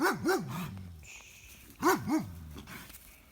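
A dog barks close by, two quick barks, then a pause and two more, with a faint whine between.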